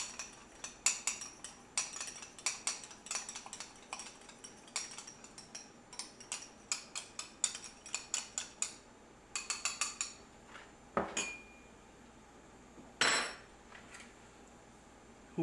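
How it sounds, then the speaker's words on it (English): Shumai filling is stirred by hand in a bowl, giving a long series of quick, light clinks and taps of utensil on dish, fairly close and steady in rhythm, followed by a few louder knocks near the end. "Mix together."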